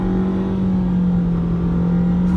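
A 2018-2019 Nissan Sentra S engine with a CVT transmission holds a loud, steady droning note. The tone is close and unvarying, with no voices over it.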